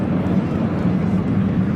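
A Red Arrows BAE Hawk jet flying at the Blackpool airshow, a steady, loud roar that holds for the whole moment without a break, mixed with outdoor wind.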